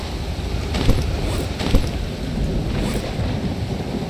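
Storm weather in the survival game Stranded Deep: a steady roar of wind and sea surf with dull thumps near one second and 1.7 seconds, loud and continuous with no voices.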